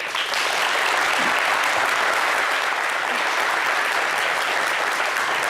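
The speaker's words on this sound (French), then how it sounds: "Merci pour les applaudissements." Studio audience on a French-language Abidjan television talk show bursts into sustained, dense applause, loud and steady throughout with no voices breaking through.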